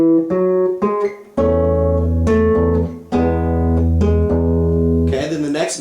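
An acoustic guitar plays the opening notes of a song as single plucked notes and ringing strings in a slow, even rhythm, close and clear, with a short burst of noise at the end.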